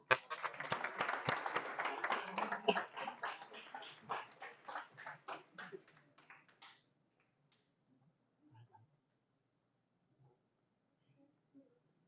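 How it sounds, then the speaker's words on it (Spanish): Audience at a book presentation during a university book fair in Chiapas claps to welcome the presenter, a burst of many hands that tapers over several seconds into scattered claps and quiet. "Démosle un aplauso para recibir"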